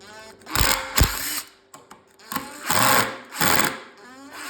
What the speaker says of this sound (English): we'll go over here and we'll unscrew this guy